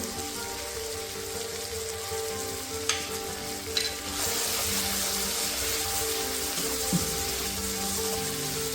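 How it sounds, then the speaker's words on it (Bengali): Ground mustard paste and green chillies fry in a pan for Bengali shorshe bhola, a continuous close sizzle that swells louder after a couple of utensil taps. "এখন আমরা বেটে রাখা সর্ষে ও কাঁচা লঙ্কাটাকে দিয়ে দেব"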